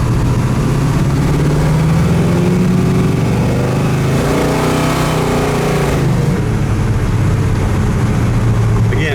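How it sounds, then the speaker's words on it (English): A 1970 Chevelle SS V8 with headers and dual exhaust, around 500 hp, rumbles loud and close with a steady deep engine drone that swells as it revs in the middle before settling back. "it's got headers with brand new dual exhaust, so the exhaust sounds awesome on it"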